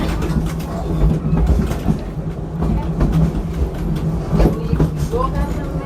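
The Wildlife Express train at Animal Kingdom rumbles along with steady rattling and clattering wheel noise, close and continuous, with faint voices underneath.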